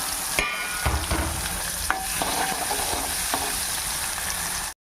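Onion pieces fry in a pan with curry leaves, dried red chillies and turmeric for a spicy potato fry, a steady loud sizzle broken by a few sharp stirring scrapes and clacks, with no voices.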